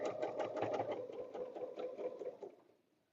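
A sewing machine stitching a quilted table runner runs with a rapid, even mechanical patter for a few seconds and then winds down and stops.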